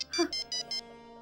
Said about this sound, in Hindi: ये हाकिम का फोन है